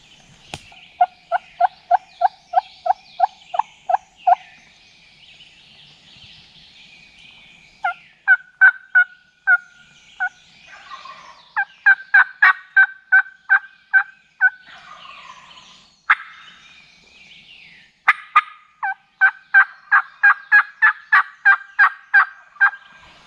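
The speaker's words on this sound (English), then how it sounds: "I had to wait on him to gobble first" A wild turkey gobbler calls repeatedly from a northeastern field, with rapid rhythmic gobbles in clustered series separated by pauses, fairly clear against a quiet background.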